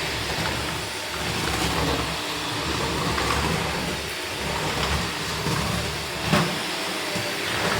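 A Shark Lift Away vacuum cleaner works an upstairs floor in hard floor gentle mode, giving a loud, steady, close motor whine and airflow roar that runs throughout with only slight variation.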